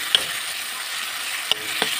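Potatoes frying in a pan give a steady soft sizzle, broken by a few sharp scrapes of stirring near the start and again around the middle and end.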